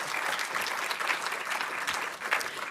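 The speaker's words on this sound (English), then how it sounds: "Yeah, you can applaud that." Audience at an arts awards ceremony breaking into applause, a dense, steady roar of many hands clapping, fairly loud and continuous for the whole stretch.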